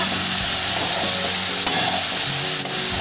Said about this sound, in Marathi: हे सर्व आपण छान परतून घेऊ।